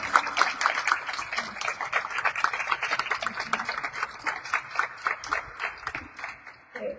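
Audience applause after a talk, a burst of dense clapping that starts strong and slowly thins out over several seconds.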